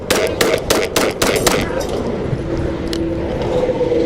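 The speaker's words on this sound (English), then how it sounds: "5 shots fired" Five sharp gunshots from a sheriff's deputy's pistol ring out in quick succession during a tense street confrontation in Riverside, California, loud and close, followed by ringing ambient noise.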